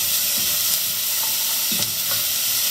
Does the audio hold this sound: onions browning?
yes